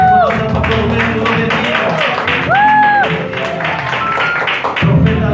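Congregation applause in a church service honoring Pastor Rubén, a steady wash of crowd clapping throughout with a few voices calling out above it.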